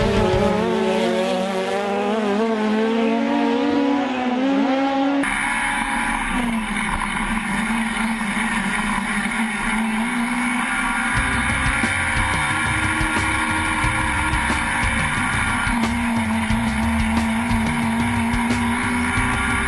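Legends dirt modified race car engine roaring and droning at high revs, loud and continuous, the pitch shifting as the car accelerates and backs off, then a sharp cut to another steady pass of engine noise.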